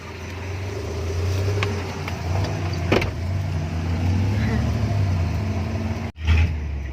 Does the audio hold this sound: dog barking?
no